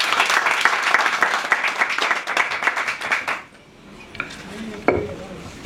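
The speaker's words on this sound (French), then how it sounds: "Est-ce que vous pouvez l'applaudir?" Audience applause for Eric Nafa, president of an organising committee, at a Paris association's press briefing: dense clapping for about three seconds, then breaking off abruptly into a quieter room with a few scattered claps.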